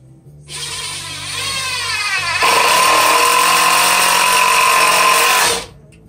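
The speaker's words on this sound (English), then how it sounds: "I'll start screwing it down." A power driver drives screws into a tool bench top with a close, loud whine that starts, pitches up, then holds a steady higher drone for about three seconds before cutting off.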